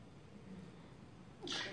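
A single short, sharp sneeze bursts out near the end after a quiet, hushed stretch of low background noise during a speech at Savannah State University.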